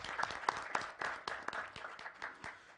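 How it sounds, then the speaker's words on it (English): Audience applause at a corporate anniversary celebration and system launch, steady crowd clapping with sharp individual claps standing out, fairly close and continuous for a few seconds with no talk over it. "we should give a round of applause for all the achievements."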